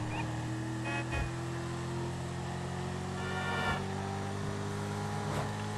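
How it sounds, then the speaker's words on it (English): A new Corvette's engine in GTA V, a steady droning hum at constant revs, moderately faint, with a few brief clattering bumps over the run. "Die geht echt ab, die neue Corvette"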